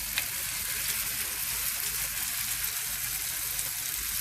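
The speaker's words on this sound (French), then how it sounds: "Alors, hop, on a de l'huile bien chaude." Brick pastry sheets (feuilles de brick) for meat and cheese bourek frying in very hot oil, a steady, close bubbling sizzle that holds at even loudness throughout with no talking.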